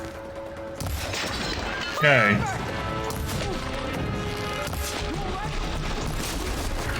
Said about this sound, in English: Or it could be a Ravager cannon.